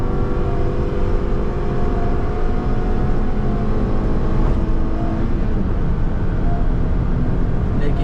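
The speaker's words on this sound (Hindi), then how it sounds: "3rd गियर में पुल करते हैं एक बार।" A modified Honda City sedan on upgraded alloys and tyres accelerates hard in third gear, its engine note rising as a loud, continuous roar with road and wind rumble from inside the car.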